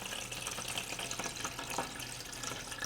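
Filtered water pours steadily into the tank of a Breville Barista Touch espresso machine, a close, even rushing splash that lasts the whole moment without speech.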